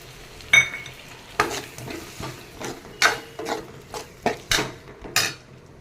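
A spoon scrapes and stirs egg curry masala for muttai kuzhambu in a pan, giving a series of sharp clinking, scraping strokes at an uneven rhythm over a faint sizzle, close and clear with no talking.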